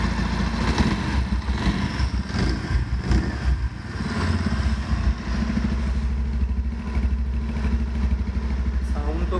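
A 2020 Bajaj Pulsar 150 Twin Disc BS6 motorcycle engine idles steadily with a deep, bassy thump, close and continuous, with a slight rev early on and faint talk underneath.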